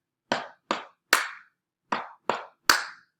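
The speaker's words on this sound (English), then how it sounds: "So our TTs are now going to be stomps, and our ta is going to be a clap." Six sharp percussive hits come in a rhythm pattern of stomps and claps, three in quick succession, a pause, then three more, each crisp and close in an otherwise silent room.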